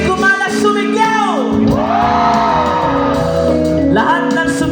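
A live concert crowd at an outdoor amphitheater shouts and whoops on request, loud overlapping voices rising and falling in a dense roar.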